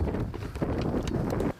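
Harness racing horse hooves clip-clop in a quick, uneven patter against wind noise over a short stretch, fairly close and moderately loud.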